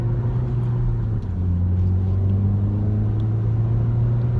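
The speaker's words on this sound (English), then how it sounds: "here I am driving a Honda Civic Si." A Honda Civic Si, a ninth-generation car with a manual gearbox, drives along with a steady, loud engine drone and road rumble. The engine note holds constant with slight shifts in pitch and no voices.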